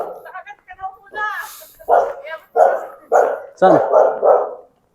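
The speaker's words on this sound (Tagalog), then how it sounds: "May aso." A dog outside a house barks five or six times in a quick, regular series, close and loud, while a few voices speak briefly before it.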